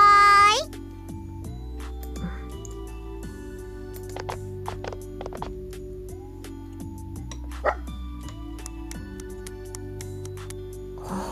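A dog barks a few times in the video game Shiny Colors, short yaps layered over steady electronic game music.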